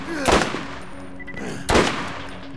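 Gunfire in the co-op shooter Borderlands GOTY Enhanced: two loud, sharp bursts about a second and a half apart, each with a short ringing tail over a low background hum.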